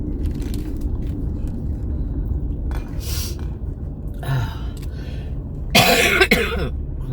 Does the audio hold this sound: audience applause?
no